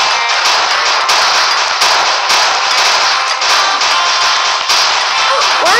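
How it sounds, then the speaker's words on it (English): Gunshots in a Roblox minigame, a loud dense barrage of repeated shots in steady rhythm over a constant, bright game soundtrack, close and prominent with no pauses. "Why is this person just trying to shoot me?"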